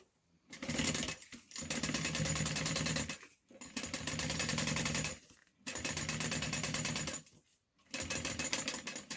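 A sewing machine top stitching a bag, loud and close, in four rapid buzzing runs of a few seconds each, with brief silent pauses between them.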